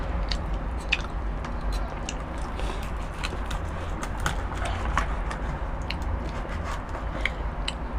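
Crispy deep-fried pork face skin, ear included, is bitten and chewed close up, giving repeated crunchy crackles and squishy chewing over a steady low background hum, with no talking.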